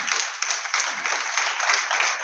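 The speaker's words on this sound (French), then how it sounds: "applaudissez-le pour moi, s'il vous plaît." Steady, dense applause from an audience at a French book presentation, filling the whole stretch at an even level with no voices standing out.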